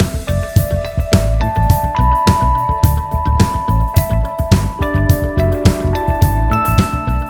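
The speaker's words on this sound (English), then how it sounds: "in the bridge, the band is actually using something called harmonics" Full rock band plays a song bridge built on chiming guitar harmonics, bell-like sustained tones ringing over steady drums and bass, loud and continuous throughout.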